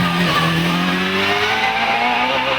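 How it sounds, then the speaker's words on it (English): A hillclimb racing car's engine roars at high revs, its pitch climbing steadily as it speeds past at Loton Park, loud and close throughout. "Ranson charges into the braking area for Triangle"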